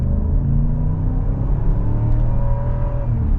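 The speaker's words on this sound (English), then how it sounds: "Now we'll get our full-blown acceleration." A 2022 Jeep Wagoneer Series II accelerates at full power, its engine a loud, steady low rumble from inside the cabin with a smooth rising whir and no speech.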